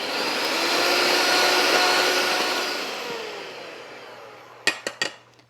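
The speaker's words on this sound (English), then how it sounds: "On medium high, we're gonna take our egg whites and beat them." An electric mixer whirs steadily on medium high while beating egg whites with sugar for a gluten-free flourless chocolate cake, a loud continuous hum that fades slightly before a few sharp taps of the beaters on the bowl.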